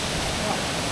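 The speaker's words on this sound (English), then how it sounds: "Oh, there's a waterfall." A countryside waterfall gives off a steady, dense rushing wash of water noise, loud and continuous, over a very brief stretch.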